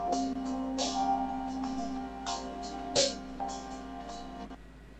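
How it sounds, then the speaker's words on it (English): An AI-generated royal entrance sound effect, heard as sustained layered tones like a stately fanfare, with several bright swelling accents along the way, steady and moderately loud throughout. "like some entrance of sort, or a royal kind of a sound."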